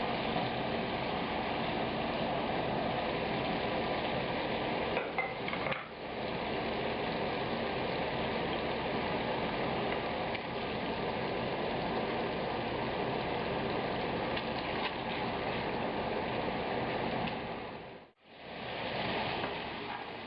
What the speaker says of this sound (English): Cook the meat until it's quite dark, but don't char it, don't go crazy.